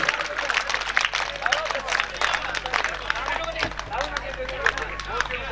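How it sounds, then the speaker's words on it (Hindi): A Bhagavat Katha gathering in Jhalamalia claps for a donor in a dense patter of hand claps, with people talking underneath. "मांगीलाल जी राजूराम जी डूडी जोरदार ताली से स्वागत"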